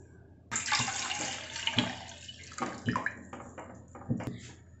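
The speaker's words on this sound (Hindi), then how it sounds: "ये मैंने इसके अंदर पानी डाल दिया है," Water pours into a bowl in a home kitchen during preparation of papdi chaat with jaggery, a splashing, gurgling burst that starts abruptly and comes in several close, uneven pulses.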